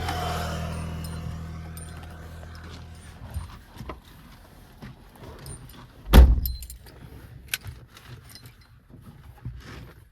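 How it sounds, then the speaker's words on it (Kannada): Keys jangle close by as a car is started, followed by a single loud burst around the middle as the engine catches, then quieter rattles and clicks. "ಈಗ ಗಾಡಿ ಸ್ಟಾರ್ಟ್ ಮಾಡ್ತೀನಿ"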